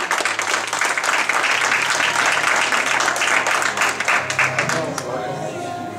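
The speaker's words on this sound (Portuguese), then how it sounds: "Can you clap your hand?" A church congregation claps along together, a dense, steady wash of hand claps filling the room from start to finish, with a low hum underneath and the clapping thinning slightly toward the end.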